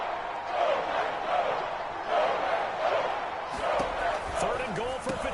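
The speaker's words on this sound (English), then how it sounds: "That just means this crowd's going to get even louder" Loud stadium crowd at a professional football game roars and cheers steadily, a dense wash of voices swelling through a tense goal-line moment, with sharper shouts and whistles rising near the end.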